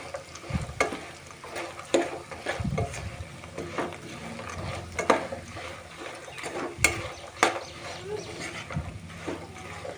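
Raw banana fry being mixed with chili powder in a pan: irregular spoon scrapes, knocks and shuffling of the pieces over a soft sizzle, fairly close, no talking.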